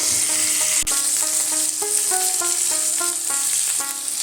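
Chicken pieces fry in hot oil with a steady, bright sizzle that runs throughout, sitting beneath a soft melodic tune and one sharp click near the start.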